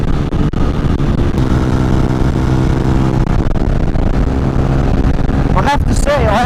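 A Honda CBR 125 motorcycle engine drones steadily while riding at speed, a constant loud buzzing hum under wind noise, with a rising whine near the end.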